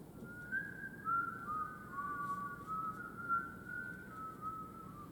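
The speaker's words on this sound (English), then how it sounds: "Whistle with me, boys. Okay? Will you whistle with me?" A single whistled melody, clear and steady, carries on without pause, with no talking.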